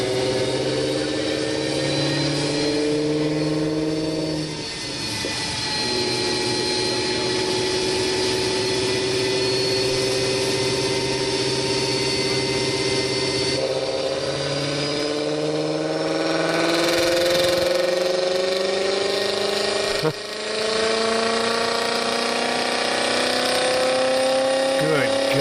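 A car engine running steadily on a mobile dyno at a 2014 event, a loud sustained drone with rising and falling pitch as the revs climb and drop over the whole stretch, with people talking faintly in the background.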